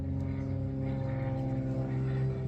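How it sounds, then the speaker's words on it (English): An airplane passing overhead outdoors produces a steady, droning engine hum throughout, moderately loud and unbroken, with no clear change in pitch over the short span. "I have no control over the airplanes flying above."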